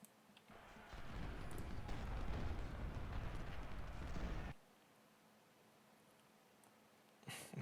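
Artillery fire in the Civil War strategy game Ultimate General Civil War: a dense, rumbling barrage of cannon explosions that roars for several seconds, then drops to a faint hum before another burst breaks in.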